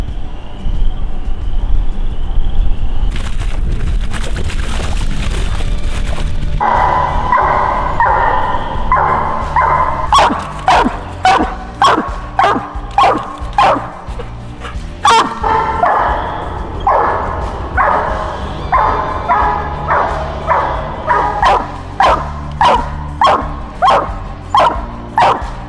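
Coonhounds bark at a treed animal in the distance, strings of sharp regular barks and baying over gusting wind noise that dominates the opening seconds.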